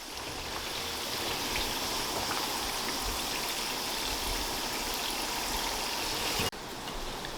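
Sura mullu sweets frying in hot oil, a steady dense sizzle and crackle that runs evenly throughout, with a brief drop just before the end.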